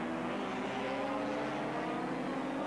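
The Slick 50 Mazda race car at the 1983 Sandown 400 roars past with a steady, sustained engine drone at constant loudness, heard without any commentary over it.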